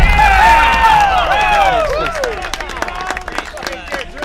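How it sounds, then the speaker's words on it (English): Tennis crowd at a men's Round of 16 match at the 2021 Philadelphia Open, with a dense, steady wash of applause and cheering filling the clip. Loud whistles sweep over it at first, then sharper individual claps stand out as the noise thins. "Huge applause from the crowd."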